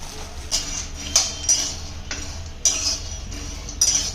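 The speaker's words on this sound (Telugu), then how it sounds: "ముందుగా స్టవ్ వెలిగించుకొని పల్లీలన్నీ ఇందులోకి వేసుకోవాలి" Peanuts roasting in a pan for chikki, with faint scattered ticks and clinks of nuts against the metal and a few brighter scraping bursts, heard close over a low hum.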